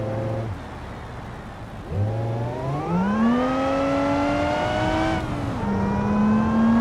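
A supercharged 3.8-liter V6 car engine in BeamNG.drive revs up and down with a smooth, rising whine, loud and steady, building through several gears.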